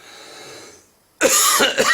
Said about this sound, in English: And then you have a bloody coughing fit